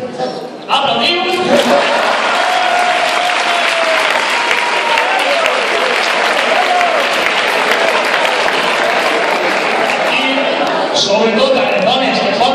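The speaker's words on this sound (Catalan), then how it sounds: "Aplaudiu!" Dense, loud applause from a crowd at a lunch gathering, starting abruptly and sustained for over ten seconds, with voices murmuring beneath the clapping.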